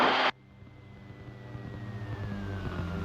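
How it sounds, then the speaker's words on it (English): After a brief loud burst, a Rotorway helicopter engine winds down as the throttle is rolled off: a faint whine slowly falls in pitch over a low, steady mechanical drone. "You see how the engine came down faster than the rotor?"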